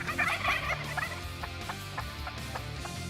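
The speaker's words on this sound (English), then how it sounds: "both Ben and I could see the turkeys" Wild turkeys gobble at a little distance outdoors, a loud burst at first and then a string of shorter, evenly spaced calls.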